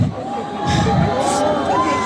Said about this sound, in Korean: 여러분들의 함성 소리